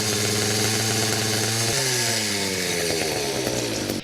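A motorized bike kit engine fitted with a CVT clutch runs close and loud with a buzzing, chainsaw-like drone, its pitch shifting as the revs drop partway through, then keeps running steadily.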